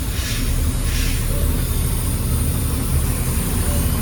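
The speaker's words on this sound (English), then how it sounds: "Driving the garbage truck." A right-hand-drive garbage truck that runs rough, driving along with a steady low engine rumble and road noise close and continuous throughout, no talk.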